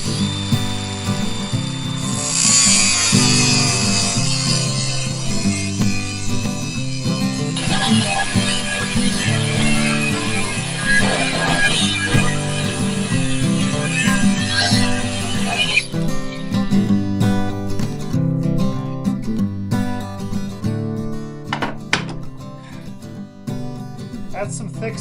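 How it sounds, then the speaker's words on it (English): An angle grinder cuts through thick steel plate while a crane is fitted to a pickup truck, giving a loud, steady, high whine with shifting pitch that continues for a long stretch, then tapers into scattered scraping and clanks. "I'll just use the grinder"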